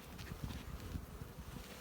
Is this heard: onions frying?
no